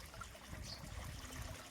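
Water trickles and splashes steadily as it is poured over a pet dog being bathed at home, a quiet continuous wash with no voices.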